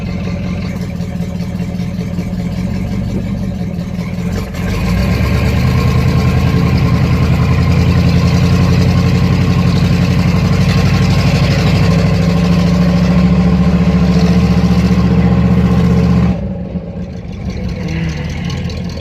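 A 1964 Cadillac Fleetwood's engine runs steadily and loudly for the whole stretch, a continuous mid-pitched rumble that swells slightly as it picks up and then drops back toward idle near the end, with no voices over it.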